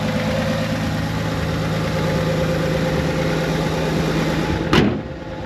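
A 1985 Ford Bronco engine idles steadily and close by with a smooth, even hum and no voices, broken only by a brief knock near the end.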